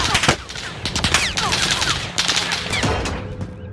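Rapid gunfire from a player shooting in Modern Warfare on Rebirth Island, a dense run of close, loud shots firing in quick succession almost without pause, with whizzing effects mixed through.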